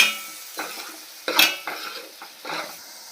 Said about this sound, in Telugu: కారం 2 స్పూన్లు వేస్తున్నాను. కొద్దిగా వేపాలి.